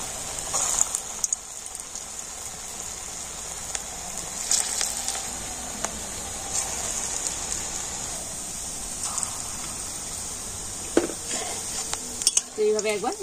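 Raw banana fritters deep-frying in oil give a steady, even sizzle, with scattered clinks of a utensil against the pan and a few sharper scrapes near the end; no voices.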